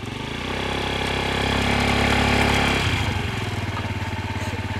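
A Honda Ruckus scooter's small single-cylinder engine idles with a buzzy putter, swells as it revs to ride off, then drops back to a rough, pulsing idle, close by and with no talk over it.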